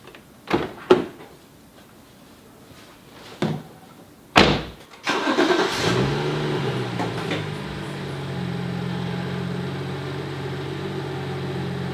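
A BMW car door thumps shut a few times, then the engine cranks and fires, settling into a steady, close idle hum as the car gets under way.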